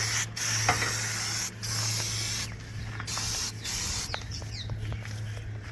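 A workshop aerosol degreaser sprays in several bursts, each a steady close hiss separated by short pauses, ending with softer sputters.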